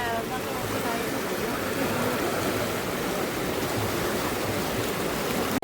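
The Narmada river flows with a broad, steady rushing wash that stays even throughout.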